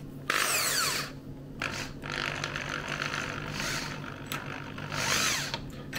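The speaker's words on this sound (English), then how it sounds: "So I'm just gonna drill myself a little bit of a hole." A power drill runs in several short bursts into foam, its motor whirring up and down as it bores, with brief quieter pauses between.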